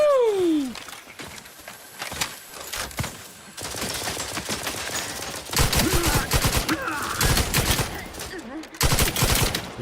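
Gunfire in the video game The Outer Worlds 2, bursts of rapid shots and heavy blasts in dense clusters, loud and close, mixed with other game effects.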